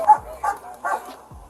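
A dog barks at a police arrest in a public place, giving three short, loud barks close by, spaced roughly half a second apart.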